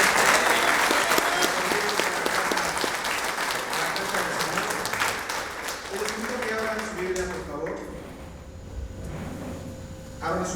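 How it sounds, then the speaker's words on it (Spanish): A church congregation applauding together, loud dense clapping that gradually thins and fades, with voices of people talking and calling out mixed in, until the room quiets near the end. "Denle un fuerte aplauso al Señor"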